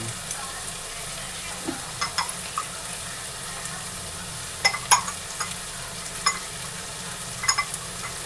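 Vegetables for a homemade curry hit a hot pan and sizzle with a soft, steady hiss, while a few light clinks and scrapes of stirring come through at close range.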